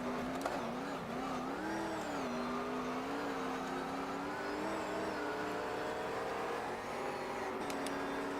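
Race car engine in the racing video game GTR2, a steady droning whine that rises and dips in pitch as the car slows into a corner, heard alone at moderate level.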